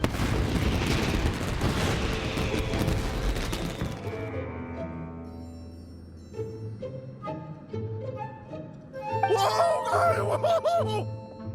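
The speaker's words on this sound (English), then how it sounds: "Yoimiya, this is turning into a bit of a fireworks display." Fireworks burst in Genshin Impact: a dense roaring barrage of booms and crackles for about four seconds, then scattered pops and sparkling whistles fading out, with a short bright flourish near the end.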